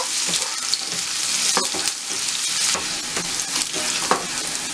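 Chopped onion fries in a pan with a dense, hissing sizzle, stirred every so often with short scraping knocks, near and loud, no voices.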